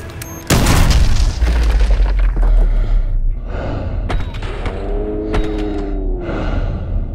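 A door breach explosion in Call of Duty MW2 bursts out with a heavy, loud boom, followed by rumbling debris, thuds and scattered impacts as the blast fades into lingering noise.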